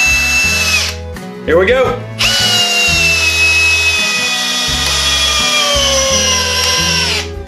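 A corded power drill fitted with a universal socket adapter drives a 3/8 inch, five-inch screw into wood, a loud close motor whine with several stops and restarts as the bit bites and the pitch sags under load; someone speaks briefly.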